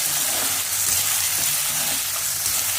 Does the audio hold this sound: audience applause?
no